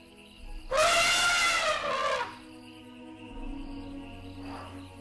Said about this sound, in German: Das ist auch sehr atmosphärisch hier mit dem ganzen Grillengezirpe.